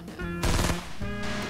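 Gunfire aimed at the player in the video game Fortnite: a loud, dense burst of rapid shots erupts mid-clip, with another burst starting near the end over steady in-game tones.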